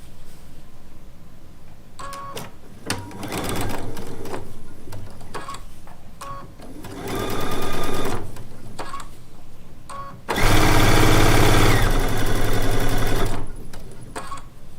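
A sewing machine stitches quilt blocks together in several bursts of rapid, whirring needle strokes. The last and loudest run is sustained, with quiet pauses and small clicks between runs.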